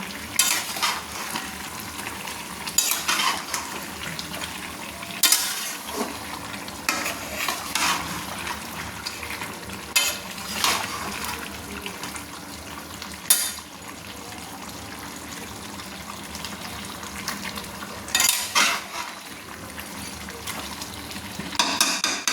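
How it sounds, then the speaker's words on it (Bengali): Mutton stirred with 100 grams of yogurt in a frying pan, steady soft sizzle broken by periodic scraping strokes of a spoon against the pan, close and fairly quiet with no talk. "দিয়ে মটনটাকে সুন্দর করে নেড়ে নিচ্ছি, দেখতে থাকুন।"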